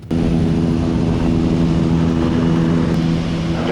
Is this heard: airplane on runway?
yes